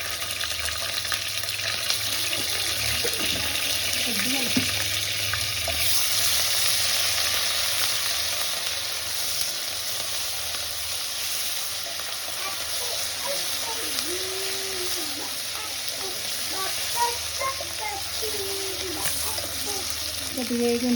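Ginger garlic paste frying in a pan for a Rayalaseema mutton curry gives off a steady broadband sizzle that runs the whole stretch, with a few light clinks and scrapes of stirring coming through.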